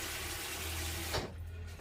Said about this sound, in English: get some water in there so I can keep that clean.